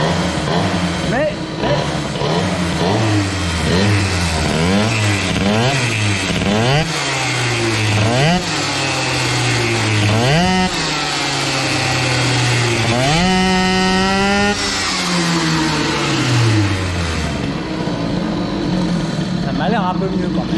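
Scooter engine fitted with a Malossi G1R cylinder, suffering a carburetion fault at small throttle openings, revs up and down repeatedly in loud, rising and falling bursts, close by, with a voice talking over it.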